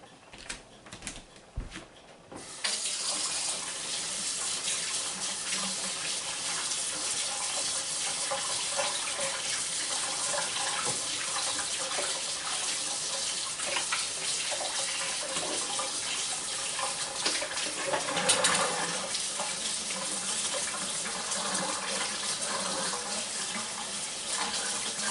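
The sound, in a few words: running tap water, washing hands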